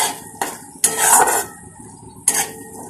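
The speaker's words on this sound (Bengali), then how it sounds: "এবার এভাবে এটাকে আমি ভালো করে কষিয়ে, তো তরকারিটাকে এভাবে আমি কষিয়ে নিয়েছি।" A spicy curry with turmeric and chili powder sautéed in a pot, with loud metal spoon clanks and scrapes against the pan in a few sharp bursts over a quiet background.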